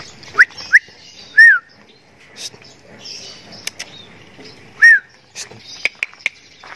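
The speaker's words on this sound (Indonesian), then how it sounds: "Burung jalak kebo saya dari Om Yokan" A Javan myna (jalak kebo) kept in a cage outside a house gives several short, loud whistled calls and chirps, spaced irregularly and close by, with no talk over them.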